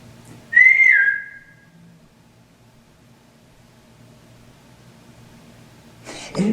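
A person whistles a single short rising-falling note, clear and close, followed by near silence and a burst of rustling noise at the end.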